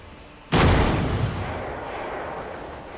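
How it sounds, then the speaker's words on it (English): A frag grenade in the video game Warhammer 40K Rogue Trader bursts in a single loud, sudden blast that rolls off into a long, fading rumble with no voices. "Frag grenade. Let's try that."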